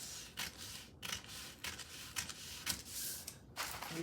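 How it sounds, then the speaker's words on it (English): Scissors cut a paper skirt pattern along a fold, giving a series of close, crisp snipping and sliding strokes in an uneven rhythm with no talk. "use the scissors and cut your"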